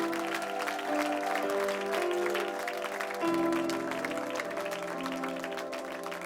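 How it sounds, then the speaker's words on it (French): A church congregation applauding and cheering, a steady wash of clapping and voices over sustained tones, with a pitch change midway. "Est-ce qu'on peut applaudir, acclamer, lui rendre gloire, mettre Jésus au centre?"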